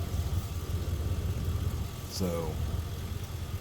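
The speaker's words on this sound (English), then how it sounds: "You want to check your transmission fluid while your engine's running." A half-ton pickup truck's engine idles steadily with a low, even hum while the transmission fluid is checked, and a voice speaks briefly over it partway through.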